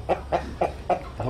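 Rooster clucking in short, regular bursts, five calls about a quarter second apart, close and moderately loud while being stroked for semen collection during a poultry insemination training session in Burkina Faso; no talking.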